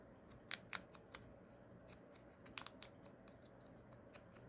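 Several crisp scissor snips cutting a round-top paper tag during card crafting, a cluster of sharp close cuts followed by a pause and a few more, fairly quiet with no talking.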